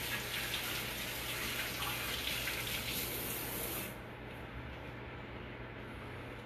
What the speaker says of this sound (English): I want to rinse my hands off.